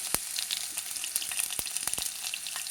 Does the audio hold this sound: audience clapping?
no